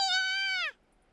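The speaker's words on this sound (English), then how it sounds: "Eru looks at the ladder and meows as if to push me forward." A cat meows in the video game You and Me and Her: A Love Story, giving one loud, drawn-out, tonal meow that falls away sharply at the end, with no other sound around it.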